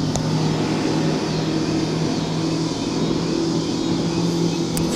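An outboard motor runs steadily on a fishing boat, a constant mid-pitched drone with a faint engine whine that holds level throughout, with no talk over it.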